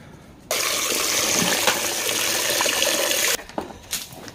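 Water gushes steadily from a tap or pipe for about three seconds as drinking water is given to farm animals, then stops, leaving a few small splashes and knocks.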